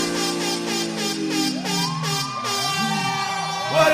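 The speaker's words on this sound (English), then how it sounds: "Sound the alarm, Shash." A rising and sliding siren-like horn blares at a live street event, starting with rapid pulsed blasts and then sweeping in wavering tones, loud and continuous.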